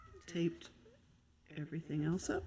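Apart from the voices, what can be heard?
cat meowing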